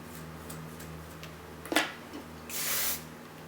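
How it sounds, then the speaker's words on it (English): Hairspray hisses from an aerosol can onto hair in a steady burst of about half a second, near and clear over a low, constant room hum, with a small click just before it. "grab some hairspray and spray it and hold the can underneath just for a few seconds"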